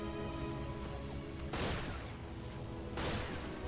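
Sniper shots in the video game Resistance: two loud, broad blasts about a second and a half apart, each ringing out over a steady hum of game background sound.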